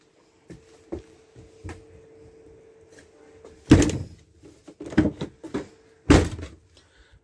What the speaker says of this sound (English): And closing the door, you can manually close it or open it.